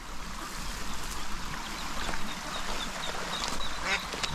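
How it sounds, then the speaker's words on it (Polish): Ducks quack outdoors, the calls faint and scattered over a steady wash of flowing water and wind, with no one speaking. "Holender kaczuszki"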